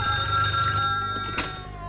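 A telephone bell rings loud and close in a brief burst, alone with no talk over it.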